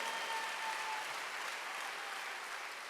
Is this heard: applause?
yes